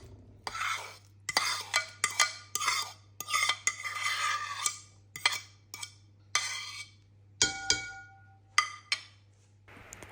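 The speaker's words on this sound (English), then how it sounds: "So now we're just going to add these mashed bananas into our mixture." Mashed bananas being mixed into banana bread batter, a series of short, close scraping and clinking strokes from a utensil against a bowl, repeating in an irregular rhythm with quiet pauses and a steady low hum.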